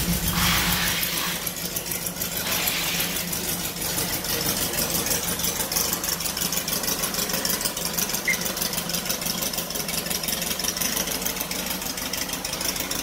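The Redneck Buggy's engine, fed by CarCraft carburetors, runs close and loud in a continuous rough rumble with a fast mechanical chatter and ticking, holding steady throughout with no voices.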